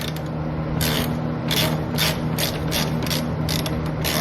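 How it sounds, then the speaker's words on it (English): A ratchet clicks in quick repeated bursts while removing bolts from the stock skid plate under a Mazda Speed 3, with about eight short rapid ratcheting strokes close by and no voices. "Right now Eli is just removing all the bolts for the stock skid plate"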